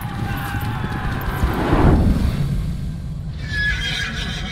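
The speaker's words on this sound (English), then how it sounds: "A warhorse was no ordinary horse." A warhorse neighs loudly over heavy hoofbeats and a low rumbling background, the whinny rising and falling in the middle of the clip before fading into continued movement.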